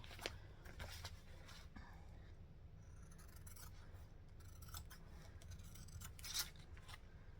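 Scissors trimming fabric on a sewing project: quiet, close snips and rustling cuts in short irregular bursts against a faint background hum.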